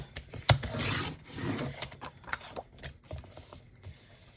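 Dark green cardstock is trimmed down for a card base, giving a faint, close scraping cut that opens with a sharp tick and then eases into soft rubbing.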